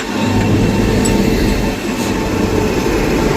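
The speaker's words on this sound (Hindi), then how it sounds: "भाई एक साथ दो ट्रेनें आ रही हैं।" Trains rumble past at close range, a loud, continuous roar of rail traffic with two trains, one of them the Sapt Kranti Express, running side by side on parallel tracks, with no voices.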